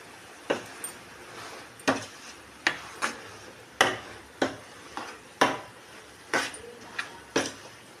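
A spoon scrapes through a curry of ridge gourd and dried prawns in a pan, a dozen sharp, evenly spaced strokes over a faint background, close and fairly quiet.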